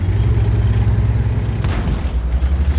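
A single 100 mm tank cannon shot from a World of Tanks AMX M4 1949, a brief muffled boom near the middle over a loud, continuous engine rumble.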